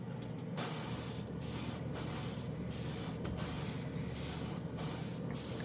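An airbrush sprays paint steadily, fed by a portable air compressor running on low. The close, continuous hiss is broken by several short pauses as the trigger is released.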